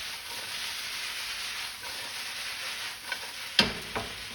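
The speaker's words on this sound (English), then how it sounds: "Let's see if I can flip this without losing half the pan this time." Potatoes and onions frying in a pan, a steady hissing sizzle, then a sharp clatter near the end as the pan is tossed to flip them, followed by a smaller knock, with no voices.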